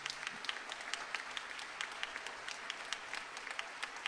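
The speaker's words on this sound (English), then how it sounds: "Can you all please join me in one more round of applause for all of our outstanding professors?" Scattered applause at a university convocation for outstanding professors, fairly quiet and distant, with individual claps popping out of a thin crowd patter over a few seconds.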